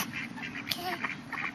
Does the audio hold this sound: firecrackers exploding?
no